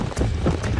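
In the video game Red Dead Redemption, horse hooves clip-clop in a steady, quick rhythm, close and clear, with a faint snort mixed in.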